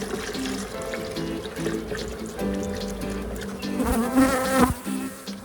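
Honeybees from a feral hive being split by a beekeeper, a dense close buzzing swarm humming continuously, with rising louder passes as bees fly near.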